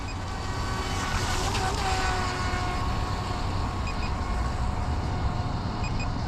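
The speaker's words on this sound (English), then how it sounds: "I'm having a lot of fun with the small boat." A Deerc 2104 Challenger RC boat runs at full throttle on open water, a constant high-pitched motor buzz with hissing spray, steady and moderately loud throughout.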